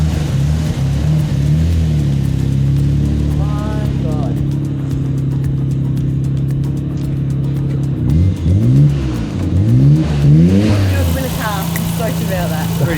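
A car engine idles with a low steady rumble, then revs in several rising and falling bursts toward the end, close by and loud.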